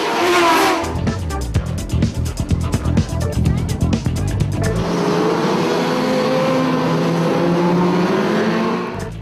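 Racing motorcycles roll onto the circuit at the Bremerhaven fishing-harbour race: sharp, stuttering engine blips up close, then a sustained loud engine drone with shifting pitch as machines pull away, while a voice talks over the start.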